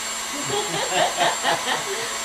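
An electric whisk whips meringue for a baked Alaska, giving a steady whirring motor whine that swells in a few gentle pulses as it churns through the mix.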